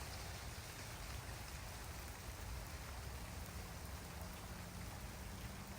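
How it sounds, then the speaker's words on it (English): Steady rain falling outdoors as a thunderstorm approaches, a constant, even hiss of drops on surfaces with no voices. "It's actually starting to rain right now"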